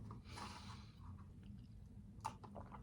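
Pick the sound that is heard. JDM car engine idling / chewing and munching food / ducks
chewing and munching food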